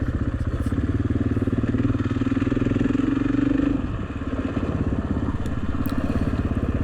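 Motorcycle riding along a rough bedrock dirt road on Croton Road near Page, with a steady engine drone and rattling, crunching clatter from the rough ground, continuous and close throughout.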